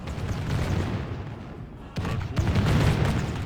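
Dwarf thunderers firing their guns in a Medieval II Warhammer mod battle against orcs and goblins, a dense rumbling fusillade of overlapping shots with a sharp new volley midway, loud and continuous.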